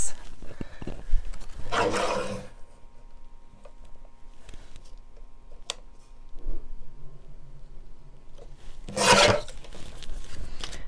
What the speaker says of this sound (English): I just took and squared that up a little bit with my guillotine